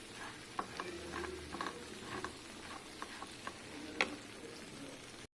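Raw groundnuts stirred in melted jaggery in a pan, faint scattered scraping ticks of a spoon over a quiet low sizzle, no voices.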